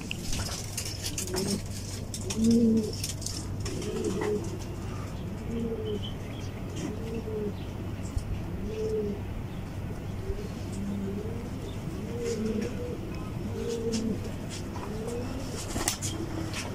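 Pigeons near a loft coo over and over in soft repeated throaty phrases, close and moderately loud above a steady low background hum, with a scatter of faint clicks and no talking.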